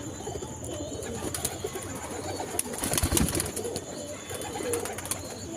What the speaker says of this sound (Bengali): কালদম পায়রা